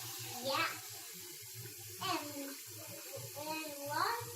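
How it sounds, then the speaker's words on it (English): Water runs steadily into a bathtub with a soft, continuous splashing rush, while a child and an adult talk over it at close range. "That's a lot of water in there."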